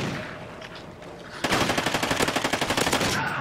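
Bursts of rapid automatic fire from an MTAR X assault rifle in Call of Duty Ghosts multiplayer, starting after a quiet moment and running as a loud, evenly spaced rattle to the end.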